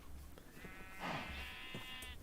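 A single sheep bleats in a video game, a clear wavering cry lasting about a second, moderately close over a faint, steady background.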